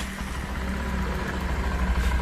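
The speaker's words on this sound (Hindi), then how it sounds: "तो आप अब इसकी साउंड सुन सकते हैं। साउंड इसके इंजन की कैसी है देखिए" A Bajaj Platina BS6 motorcycle with a newly fitted timing chain idles steadily close by. The low engine hum runs evenly with no talk over it.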